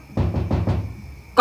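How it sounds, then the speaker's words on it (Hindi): Knocking on a door in a Hindi comedy sketch: four evenly spaced dull knocks, fairly close and moderately loud, followed by a brief burst of sound at the very end. "कौन है जो दरवाजा खटखटा रहा है?"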